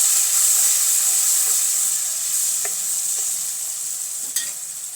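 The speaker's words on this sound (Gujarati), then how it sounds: "આ ડુંગળી સરસ એવી સકળાઈ જાય તો તેમાં આપણે 1 નંગ ટમેટું ઉમેરી દઈશું." Onion and tomato frying in a pan for a village-style spinach and fenugreek curry, a loud, continuous close sizzle and hiss with a few light stirring clicks.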